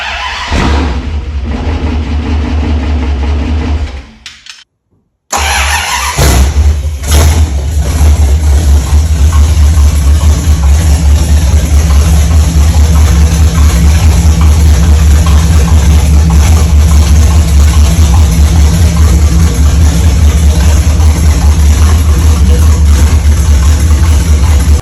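A barn-find 1968 Dodge Super Bee's rebuilt 383 Mopar V8 fires up for the first time, a loud steady deep rumble that settles into a continuous idle after a brief silent gap near the start.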